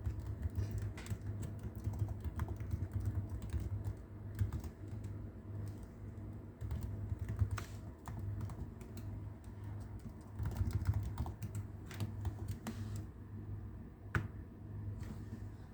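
Someone fills in a sign-up form by typing on a computer keyboard, a quiet, irregular run of close key taps over a low steady hum, with no talking.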